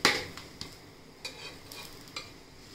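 Spinach paratha roasting in oil on a hot griddle, a soft steady sizzle with a few light scraping taps from a spatula, fairly quiet and without voices.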